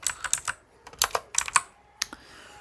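Fingers type on a computer keyboard in quick, uneven clusters of light clicks with short pauses between bursts. The sound is close and fairly quiet, with no voices.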